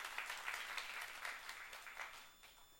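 Church congregation clapping during a Korean youth sermon, a quiet, steady patter of many hands that persists through the whole moment and thins slightly toward the end.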